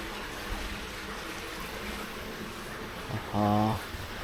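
Water runs at a natural hot spring in Japan with a soft, steady rushing hiss throughout, and a brief voice-like sound rises near the end.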